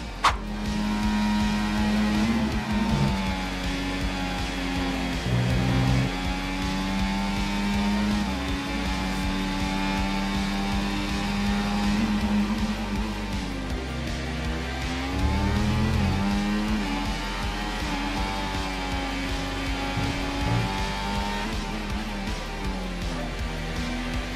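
A Formula 1 car in F1 24 runs a full flat-out lap of Australia's circuit, its engine note loud and continuous with rising and falling revs through gear changes and braking zones.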